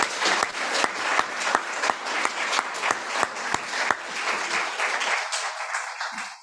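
Dense audience applause at a university ceremony installing the department head of Applied Mathematics and Statistics; many hands clap steadily and loudly, alone without talk, then thin out and fade near the end.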